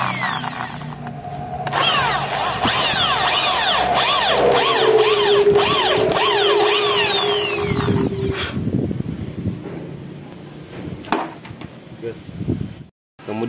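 A power drill with a 6 mm bit bores into a seized, broken brake caliper bleed bolt, whining loudly and steadily for several seconds before it winds down and a few clanks follow.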